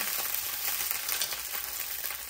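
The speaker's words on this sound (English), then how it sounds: "We're gonna add in our asparagus. Give everything a nice mix in that ghee, so it's nice and coated." Asparagus sizzling in hot ghee as it is stirred in a pan, a dense, steady frying hiss close by with soft stirring scrapes and no voices.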